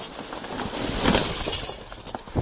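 Glass shards clinking and breaking as someone climbs through a dumpster full of discarded items, with scattered sharp clinks and crunches over a rustling background, fairly close and moderately loud.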